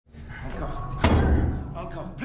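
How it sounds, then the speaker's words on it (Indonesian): Heavy thuds and a slam against a sturdy generator room door as people try to force it open, loud and close, with rumbling impact noise and no speech. "Mereka tetap dan terus berusaha mencoba mendobrak pintu ruangan generator itu."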